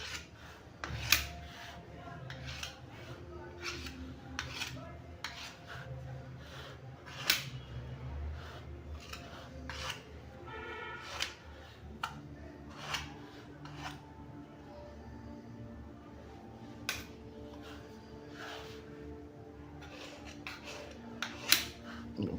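Leftover pie dough for an apple pie being trimmed away with scissors or a blade against a dish, giving repeated close, quiet snips and scrapes with small clinks.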